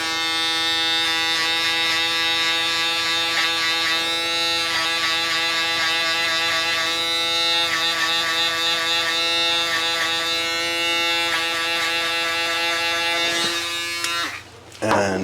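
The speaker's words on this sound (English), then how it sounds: "I'm gonna go in with the shaver now just to get that line bald." An electric shaver buzzes loud and steady up close while it shaves a line bald during a buzz cut with an ice pick taper, and the tone shifts as it moves over the head before cutting off near the end.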